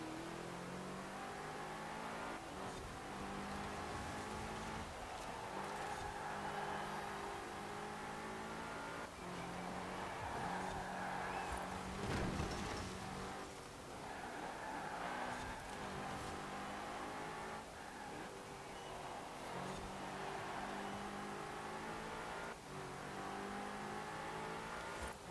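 Race car engine in Forza Horizon 4 revving and shifting continuously through a race, steady loud drone with repeated gear-change dips and surges, no talk over it.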